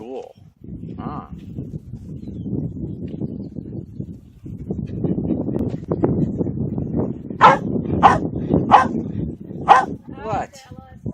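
A dog lets out a run of loud, sharp barks spaced about a second apart toward the end, following a stretch of steady nearby male speech.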